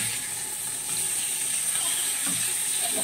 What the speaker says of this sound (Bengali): চলো মাছটা আগে ভেজে ভেজে তুলে নিই হালকা করে করে